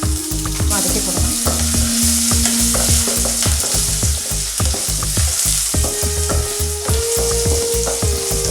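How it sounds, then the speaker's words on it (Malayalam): Fennel seeds, garlic and ginger sizzle and fry in hot oil, a loud continuous crackle broken by rhythmic scraping of a spoon stirring the pan, close up with no speech. "പെരിഞ്ജീരകം 1/2 ടീസ്പൂൺ, വെളുത്തുള്ളി 1 ടീസ്പൂൺ, 1 നുള്ള് ഇഞ്ചി വതക്കി കൊടുക്കാം."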